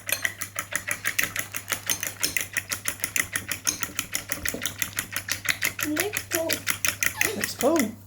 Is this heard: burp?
no